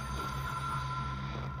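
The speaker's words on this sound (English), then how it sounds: "I hear a phone ringing." A telephone rings in the video game Control, a steady electronic ring sustained at moderate volume over low ambient hum, with no voices.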